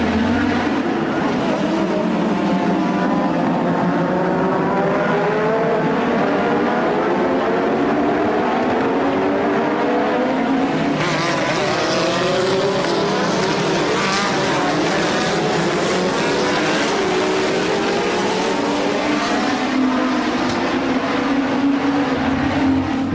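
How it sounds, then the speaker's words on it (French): Several 1980s Formula 1 cars race past on a Grand Prix circuit, their high-revving engines whining continuously and loudly, with rising and falling pitch sweeps as cars accelerate and brake through the lap, no talk over them. "Berger et Prost repartent, tandis que Piquet et Senna ont déjà beaucoup d'avance"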